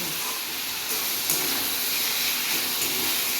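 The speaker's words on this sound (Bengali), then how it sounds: "এবার মশলার সঙ্গে আলুগুলো ভালো করে ভেজে নেব" Fried potatoes are frying in masala in a pan for a papad aloo curry. A continuous, close sizzling hiss holds steady with faint scraping accents and no voices.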